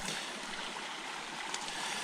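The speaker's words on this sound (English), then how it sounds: "Got ourselves another little babbling brook right here." A small babbling brook in the woods along a backpacking trail, flowing steadily with a continuous bright rush and trickle, close by and with no voices.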